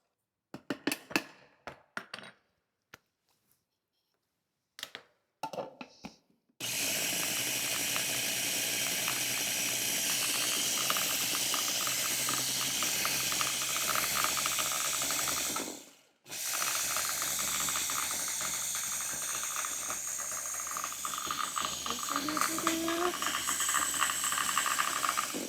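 A food processor runs with a loud, steady mechanical whirring and rattling, stops briefly and then starts again. It follows a few sparse clicks and knocks.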